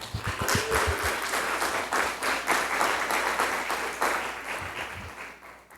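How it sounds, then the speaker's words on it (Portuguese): A church congregation applauds, a dense wash of many hands clapping that starts with a few sharp claps, swells and stays loud and steady, then thins slightly toward the end. "Dê uma salva de palmas para as mulheres aí, gente"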